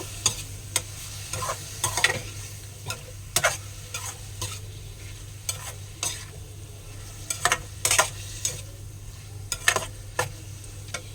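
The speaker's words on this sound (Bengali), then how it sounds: "গ্যাসটাকে বাড়িয়ে দিয়ে নাড়ব।" Paste being stirred in a frying pan over a raised gas flame, with a steady low sizzle and a bright, irregular scraping and clinking of the spoon against the pan, close and fairly quiet.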